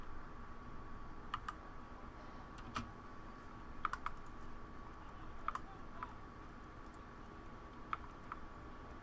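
Keyboard keys pressed during a Baldur's Gate II playthrough, scattered sharp clicks, single and in small clusters, over a steady background hum at low level.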